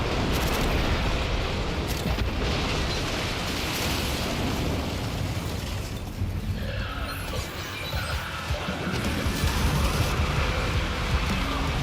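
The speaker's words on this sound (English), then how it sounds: "God, I love that cannon shot." A heavy cannon shot in a video game booms and rumbles loudly, its crash rolling on continuously for several seconds and easing slightly near the middle before swelling again.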